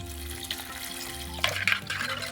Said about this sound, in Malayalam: ഇനി ഇത് വേകാനുള്ള ആവശ്യത്തിനുള്ള വെള്ളം കൂടി ഒഴിക്കുകയാണ്.